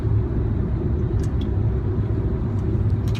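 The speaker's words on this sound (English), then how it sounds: "I'm in my car right now and I'm really enjoying it. It's the first time I've taken this car like on a real long distance travel" Steady low road rumble fills a car cabin on a long-distance highway drive, a constant engine and tyre drone with faint higher ticks, no talk.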